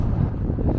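Wind gusts at night across Quincy Market in Boston, a steady, fairly loud low rushing and buffeting against the microphone with no other distinct sounds.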